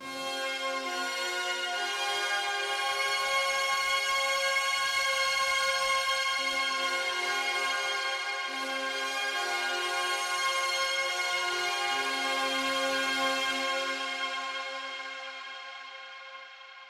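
A Make Noise Pressure Points sequence on a modular synth, played as a sustained, harmonically rich tone whose notes shift slowly, washed in a big reverb that swells and then fades toward the end.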